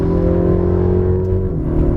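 Car in sport mode pulling hard, its engine drone steady and loud from inside the cabin, pitch holding then shifting slightly as it gears up, with road rumble underneath and no speech.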